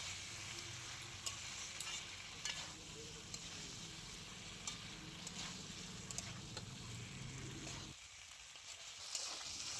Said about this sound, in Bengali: এটাকেও আমি বেশ কিছুক্ষণ মশলার মধ্যে একটু সময় নিয়ে কষিয়ে নেব।